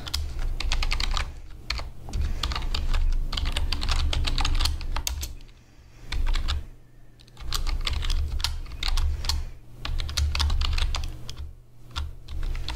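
Rapid, steady keystrokes on a computer keyboard as JavaScript code is typed, close and clear, with brief pauses between runs of clicking and a low background hum underneath.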